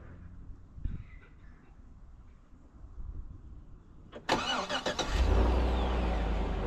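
A car engine cranks and fires in cold weather, then settles into a loud, steady idle close by after a quiet stretch of faint rustling and clicks.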